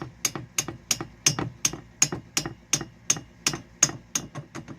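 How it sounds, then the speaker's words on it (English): Light hammer taps fitting a part into the cylinder head of a Honda CA95 motorcycle engine, about a dozen sharp, evenly spaced metallic knocks at a steady rhythm, close and clear with no talking. "This light tap is not damaging anything."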